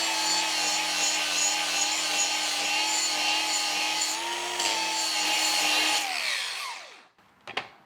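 Blade from a Hustler Fastrak mower, original and about four years old, being sharpened: a loud, steady whining drone from a powered tool that winds down and stops, followed by a few faint clicks.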